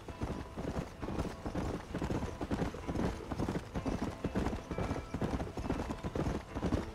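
A horse's hooves clip-clopping at a steady riding gait in the video game Red Dead Redemption, a continuous rhythmic clatter of hoofbeats from start to finish with no talking.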